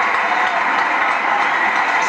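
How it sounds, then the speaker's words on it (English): Steady audience applause at the Miss India UK 2001 pageant as finalists leave the stage, an even wash of many hands clapping at close range without pause. "Let's give them a clap as they clear the stage."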